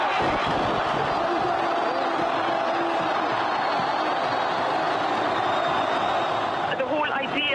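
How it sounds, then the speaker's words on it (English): A huge crowd in Egypt roars and cheers at Hosni Mubarak's fall, a dense continuous wall of shouting and whistling that stays loud throughout, with voices mixed into it. "Listen to that crowd."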